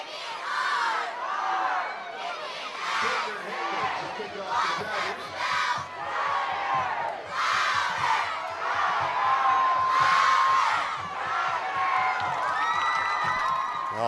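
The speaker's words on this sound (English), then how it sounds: "You can hear the crowd's really into it, really behind their Tigers as Cameron Hankins gets ready to come into t" A crowd at a high school football game cheers and shouts with rising and falling waves of voices, including young cheerleaders chanting, loud and continuous across the whole stretch, with a whistle near the end.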